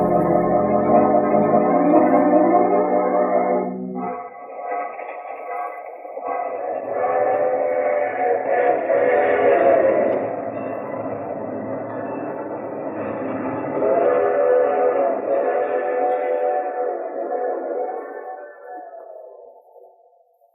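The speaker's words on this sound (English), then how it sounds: "We'll be aboard that train too, Foley." A train rumbles along steadily while a long, sustained whistle sounds over it, fading toward the end.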